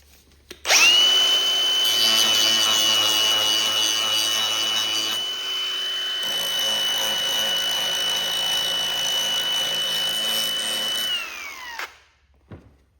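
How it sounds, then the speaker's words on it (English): A 4.5-inch bench grinder spins up and a loud, sustained grinding whine runs for about ten seconds. It shifts tone midway, then winds down to silence. "I'm just going to use just a regular bench grinder"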